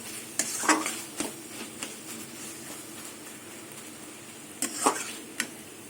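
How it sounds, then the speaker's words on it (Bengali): Taro leaves are stirred and scraped in a pan with a metal spatula, giving several sharp clinks and scrapes over a faint, steady sizzle, close and fairly quiet, with no talking. "খুন্তি দিয়ে একদম ঘেটে দিচ্ছি শাক"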